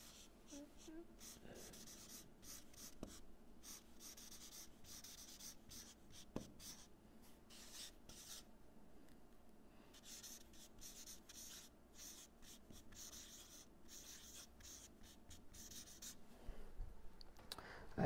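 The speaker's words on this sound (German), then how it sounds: "Ich schreibe das jetzt nochmal groß." Large letters are written by hand in a long stretch of scratchy, rubbing strokes, quiet and close, continuing with short pauses and a faint voice now and then.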